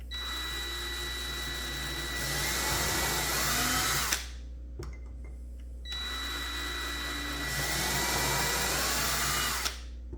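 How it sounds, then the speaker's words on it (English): Power drill boring holes through a handmade wooden fingerboard deck, two loud close whining bursts of about four seconds each, separated by a brief pause. "I got to drill these holes as straight as possible"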